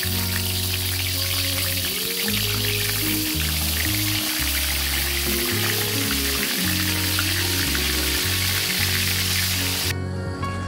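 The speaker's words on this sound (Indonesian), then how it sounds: "aku cuma goreng 3 aja." Dencis fish, cleaned and seasoned with salt and lemon juice, fry in hot oil with a loud, steady crackling sizzle that fills the whole clip, accompanied by a low humming hum, and ending with a brief clatter.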